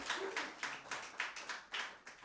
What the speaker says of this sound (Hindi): भरपूर तालियों में जनाब आसिफ इमरान साहब।